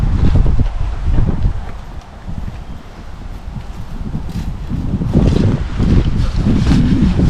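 Wind gusts buffet the microphone outdoors beside a Toyota Tacoma in a garage yard, a rough low rumble that surges loudly, eases briefly in the middle, then swells again.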